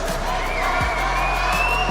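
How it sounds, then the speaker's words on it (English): Esports crowd at an Apex Legends Global Series LAN in Paris, a steady dense roar of cheering and whoops from a large arena audience, loud and continuous with a voice rising briefly over it. "They're so wild in here. That's what I like to hear in the crowd, live from Paris."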